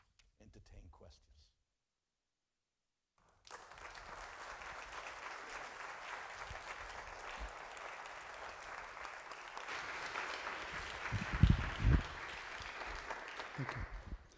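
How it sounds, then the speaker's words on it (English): Sustained lecture audience applause rises after a brief moment of speech and silence, steady and full, swelling slightly before continuing to the end. "I don't know if clapping is the right response to this"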